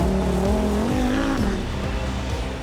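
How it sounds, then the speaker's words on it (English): Rally cars racing up the course at the 2018 Chateau Impney Hillclimb, a loud engine roar climbing and shifting pitch as a car drives hard past, close and continuous. "these superb rally cars chewed up the course, taking no prisoners"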